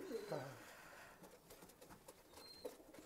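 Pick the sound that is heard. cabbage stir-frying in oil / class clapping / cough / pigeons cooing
pigeons cooing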